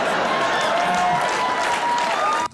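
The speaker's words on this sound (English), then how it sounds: "We hear claps, right?" A crowd at a fight event claps and cheers in a dense, continuous wash of noise that cuts off abruptly near the end.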